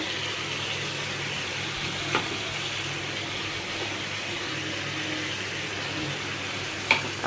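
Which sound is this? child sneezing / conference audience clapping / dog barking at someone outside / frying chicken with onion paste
frying chicken with onion paste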